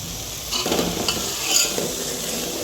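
Herbal hair oil simmering in a pan over a low flame, a soft steady sizzle with a few scraping stirs of a spoon close up and no talk.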